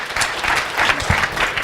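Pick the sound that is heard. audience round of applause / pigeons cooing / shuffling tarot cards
audience round of applause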